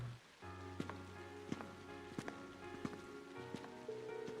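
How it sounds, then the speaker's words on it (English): Rain in The Legend of Heroes: Trails of Cold Steel patters softly with scattered drip-like taps, set under a steady, sustained musical backdrop. "It's just a bit of rain."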